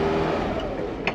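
A 1957 Mercedes-Benz 190SL engine pulling onto the highway, a steady mid-pitched engine hum with gently shifting tone, close and continuous, with a brief faint click near the end and no voices.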